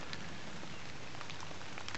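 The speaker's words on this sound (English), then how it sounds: "It's pissing it down the rain." Heavy rain pours steadily onto a tipi, a dense continuous patter with scattered individual drops standing out, close and enveloping, with no voices.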